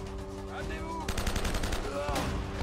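Gunfire in the video game Uncharted: Drake's Fortune, rapid bursts of shots rattling over game music and effects.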